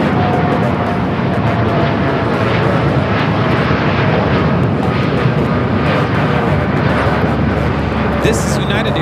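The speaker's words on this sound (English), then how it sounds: "This is United Airlines 3916 taking off to Newark on the 787-9 Dreamliner." A United Airlines Boeing 787-9 Dreamliner bound for Newark takes off from LAX, its loud continuous jet roar dominating throughout, with a voice faintly underneath.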